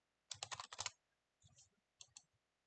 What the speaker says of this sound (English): I love typing commands wrong.